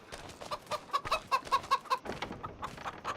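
Chickens cluck steadily in Farming Simulator 25, a busy flock heard at close range with a run of evenly spaced clucks in the middle of the short stretch.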